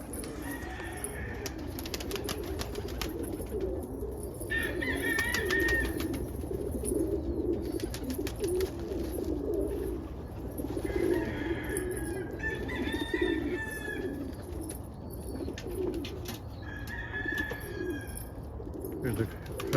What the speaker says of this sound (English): Look at that Indian fantail cockbird over there sitting on the top.